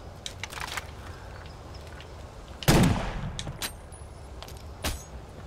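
A pistol fires in Killzone Shadow Fall while the player moves through a jungle: one sharp, loud report rings out and decays, with fainter clicks and clatter scattered before and after it.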